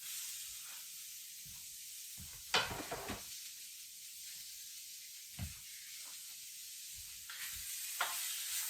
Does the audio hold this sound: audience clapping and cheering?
no